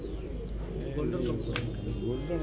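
Pigeons cooing on a rooftop loft, soft low coos and a few chirps under faint background noise, with a brief bit of speech.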